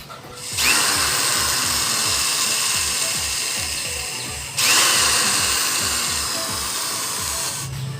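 Power drill boring into wood while building a wild dove trap, two long loud high-pitched whirring runs with a brief pause between, close and steady, with a ratcheting low rattle beneath.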